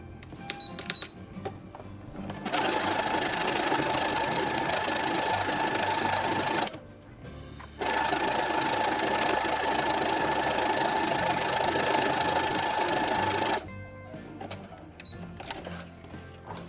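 Sewing machine running a zigzag stitch on a costume jumpsuit, two loud steady whirring bursts of rapid needle clatter with a short pause between, close up and without talk.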